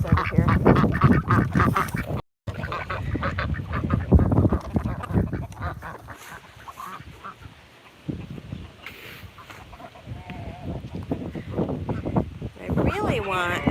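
Chickens and other fowl on a rural South Dakota farm, young birds among the adults, give scattered clucks and calls under a person talking nearby for most of the stretch.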